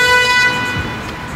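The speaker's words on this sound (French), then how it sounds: "La personne klaxonnait parce que c'est un Uber et que le client est parti sans fermer la porte." A single short car-horn toot from an Uber vehicle sounds at close range on a street, lasting about half a second before fading into low traffic noise.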